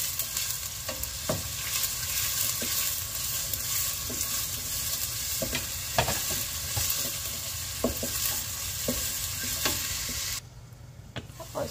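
Onion and carrot sautéing in a pan for a leftover ramen dish: a steady, close sizzle runs throughout, broken by sharp clinks and scrapes of stirring, then drops quieter near the end.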